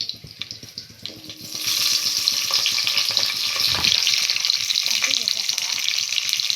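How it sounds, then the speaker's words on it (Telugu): Cashew nuts and onion frying in oil in a pan for a lunchbox rice dish, with a steady, loud sizzle starting after a quieter moment and continuing under occasional stirring clatter. "అది జీడిపప్పు వేస్తున్నాను. కొంచెం ఫ్రై అయిన తర్వాత ఆనియన్ వేసేస్తున్నాం."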